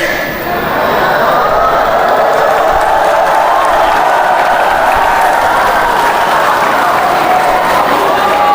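A school audience claps and cheers, a dense, loud wash of applause that holds steady throughout, with crowd voices mixed in.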